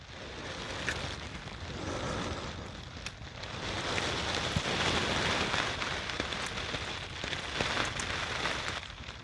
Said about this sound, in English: Perfect evening for a little campfire here.